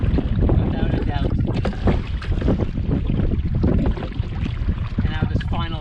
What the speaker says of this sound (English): I'm going to focus on paddling and not talking to the camera